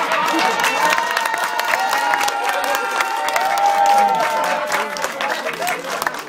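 An audience at a Danish comedy show with Fede Finn og Funny Boyz claps and cheers loudly and steadily throughout, with a dense wash of hands and voices.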